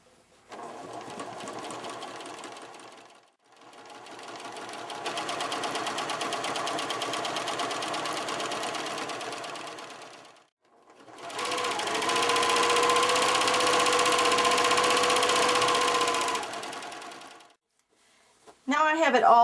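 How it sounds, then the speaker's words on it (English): Sewing machine running fast stitching a patch onto denim jeans, three long loud sustained whirring runs separated by short pauses, with a voice talking over it. "I'm going to go back and forth this way and stitch this down pretty fast with my machine pedal to the metal"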